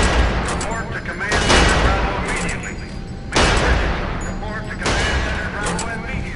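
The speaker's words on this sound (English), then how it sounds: "Step on over to the range and fire off a few shots." Repeated loud gunshot bursts at a video game shooting range, several heavy volleys spaced a second or two apart over steady background noise, with speech mixed in.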